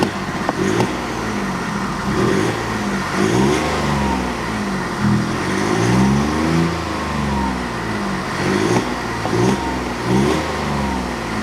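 A BMW car engine with a low oil pressure fault revs up and settles back again and again, rising and falling in repeated surges close to the microphone.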